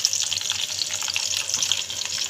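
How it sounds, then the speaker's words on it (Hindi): Water is poured into a pot of chana dal with lauki, a steady close splashing stream that runs unbroken for a couple of seconds, with no talking. "पानी ऐड करूँगी"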